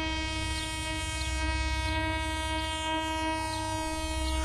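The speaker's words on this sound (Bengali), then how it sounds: "পুরুলিয়া থেকে বিকেলের ট্রেনে বেগুনকোদরের দিকে রওনা দিলাম" An afternoon train from Purulia runs on the rails with a continuous loud rumble and a long sustained horn, with a rhythmic clatter repeating beneath, a radio drama sound effect.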